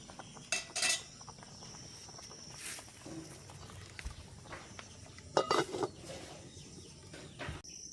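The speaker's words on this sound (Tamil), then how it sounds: "குழம்பு வத்த வேணும், மூடி விட போகிறோம்" A lid clinks shut on a pot of simmering fish curry (kulambu) in an outdoor village kitchen. There are a couple of brief, faint metallic knocks over steady insect and evening ambience, with no talking.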